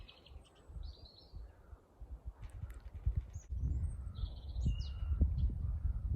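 Several garden birds sing and chirp in short, high bursts at middle distance on a cold day, over low rustling and handling noise that grows louder partway through.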